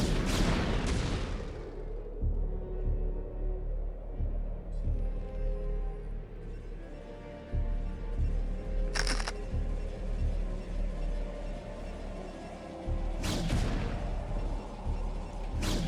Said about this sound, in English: Vultures trying to bait Dragoons to getting shot in the face by these siege tanks